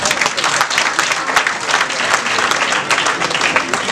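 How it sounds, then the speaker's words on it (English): A large crowd at a political grand gala in Jamaica claps loudly and continuously for the current party leader, a thick unbroken wash of many hands close and full for the whole stretch. "I want you to give the current leader another hand clap for me"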